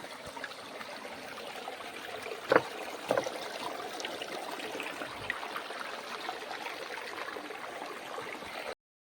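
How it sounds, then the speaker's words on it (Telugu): Mountain stream water flows through a deep forest in a hilly area, giving a steady soft rushing murmur that is fairly faint and continuous, with a couple of brief knocks near the start. "కొండల వాటర్ సౌండ్ వస్తాను చూడండి కలకలని"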